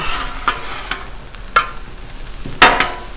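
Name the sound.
sloppy joe meat sizzling and stirred on Blackstone griddle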